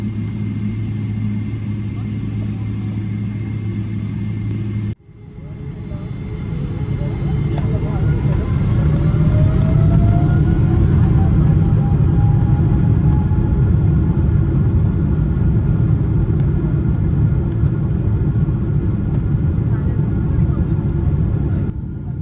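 An airliner taxies toward runway 30 and then powers up for takeoff, a steady low rumble giving way to a loud, swelling engine roar with rising whine that holds strong through the takeoff roll.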